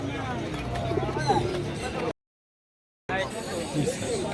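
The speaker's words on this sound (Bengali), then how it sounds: "এই খাঁচাটায় যে সমস্ত পায়রা রয়েছে সব কিন্তু নিচে বাজির পায়রা" Racing pigeons coo and rustle inside a cage at a busy village market, with steady crowd chatter and voices around them; a brief dropout breaks the sound partway through.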